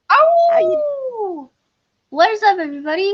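A dog in a studio lets out a long, loud whine that slides downward before trailing off, followed after a short pause by a person speaking.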